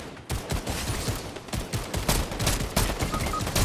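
Rapid Fortnite gunfire: repeated sharp shots and short bursts sound fairly close, dense and uneven, with no talking over them.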